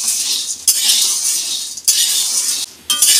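Lentils frying in a pan, a steady loud sizzle and crackle interrupted by a few short scraping stirs.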